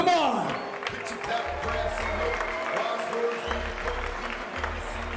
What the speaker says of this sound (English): Let's give a big applause for them, come on!